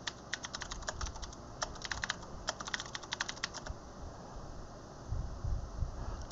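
Quiet, close rapid keystrokes on a computer keyboard as a MySQL root password is entered, a brisk clatter of clicks for a few seconds that then stops, leaving faint room noise.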